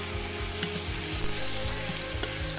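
Garlic, ginger and onion sautéing in a hot pan for chicken tinola, a steady close sizzle with scraping stirs of a utensil against the pan.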